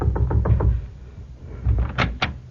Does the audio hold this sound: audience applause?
no